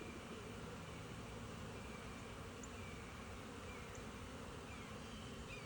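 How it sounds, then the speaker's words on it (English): Honey bees buzzing at a beehive make a steady, dense hum that holds unbroken throughout, with no talk over it. "those bees are really going at it"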